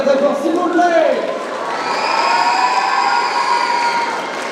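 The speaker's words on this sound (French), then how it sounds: "Je crois qu'on peut encore les applaudir très très très fort, s'il vous plaît." Crowd at a cosplay contest in Laval cheering and applauding loudly, a sustained roar of voices and shouts filling the space after a host's voice at the start.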